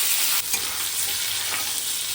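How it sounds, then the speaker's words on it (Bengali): Potatoes frying in a pan with oil and salt, a steady close sizzle with faint stirring scrapes throughout, and no voices. "হালকা ভেজে ভেন্ডিটা দিয়ে দেবো।"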